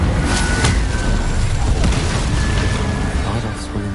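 A fire spell cast in the Hogwarts Legacy video game, a sustained loud whooshing roar with a few bursts, running continuously at close range with no speech.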